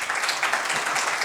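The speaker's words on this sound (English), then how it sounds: "round of applause." A conference audience breaks into a dense, even round of applause in a hall, many hands clapping together close and steady through the short stretch.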